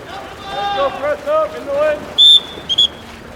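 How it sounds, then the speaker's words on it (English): A referee's whistle at a men's water polo match against Ottawa gives two sharp, loud blasts, one long and one shorter, right after a commentator speaks. "Whistle going against Gates."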